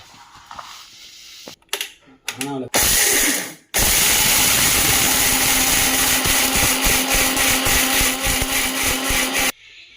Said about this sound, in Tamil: மிக்சியில் போட்டு நல்லா பவுட்ரு பண்ணி எடுத்துட்டோம்னா அவ்வளோதான்